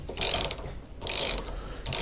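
Ratcheting clicks from a Saker universal socket wrench, heard in two close, loud bursts of rapid pawl clicking separated by a brief pause, with no voices.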